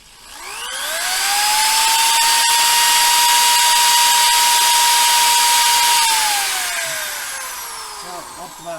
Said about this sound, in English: So I got out my 3/8 drill.